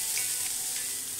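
White mushrooms stir-fried in a hot wok give a dense, even sizzle up close, with faint crackles across a brief stretch and no voices.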